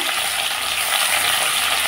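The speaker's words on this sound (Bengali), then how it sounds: "এখন আলু ভাজার উপরে দিয়ে দিচ্ছি টমেটো কুচি" Chopped tomatoes, four of them, land on potatoes frying in a pan, giving a dense, steady sizzle close up with no talking.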